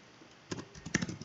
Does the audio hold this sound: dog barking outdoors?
no